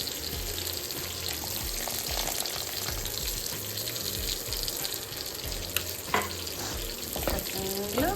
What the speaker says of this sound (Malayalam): ഇനി നമ്മൾ പുളിവെള്ളം നമുക്ക് ആഡ് ചെയ്ത് കൊടുക്കാം.